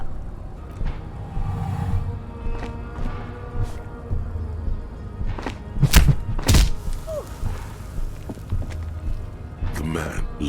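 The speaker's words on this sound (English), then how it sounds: "The man lands with a dull thump, like a broken down puppet of muscles and sinew." A body lands with a dull thump in the video game Disco Elysium, two heavy close thuds midway through amid smaller knocks, with someone talking over a low background.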